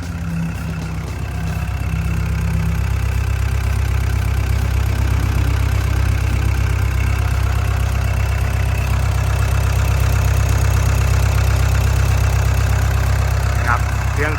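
A Komatsu 4D95L diesel engine in a Komatsu WA100-6 wheel loader idles steadily and close by with a deep, constant rumble and faint mechanical knocking, and there is no talking.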